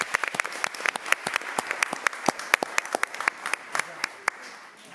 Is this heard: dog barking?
no